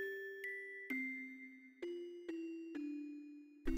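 A clear Christmas bell rings as a sound effect in a gentle bedtime story: about six soft struck tones, each ringing on with a long sustain, quiet and alone with no voices.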